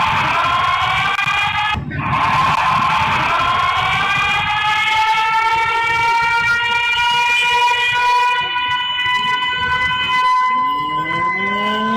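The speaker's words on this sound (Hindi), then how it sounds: "सिविल डिफेंस के कर्मियों ने अटल चौक पर सायरन भी बजाया" A civil defense siren wails at Atal Chowk in Lucknow during a two-minute silence, loud and sustained with a rising and falling pitch that repeats over a constant background rumble.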